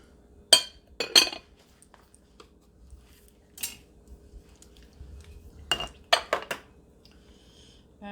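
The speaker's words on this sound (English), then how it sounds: "Just kind of crush it and make it into a paste." Cooked tomatillos being crushed into paste in a stone molcajete, heard as a few sharp clinks and knocks of the pestle on stone, spaced irregularly with quiet gaps between, close and moderately loud.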